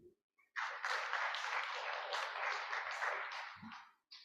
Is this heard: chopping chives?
no